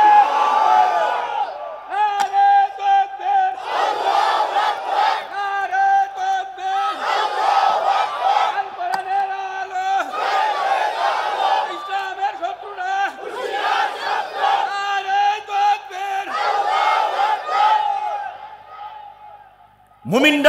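A large crowd at an outdoor Islamic sermon gathering in a market shouts takbir in repeated loud, sustained chants, swelling in waves with brief pauses between each roar.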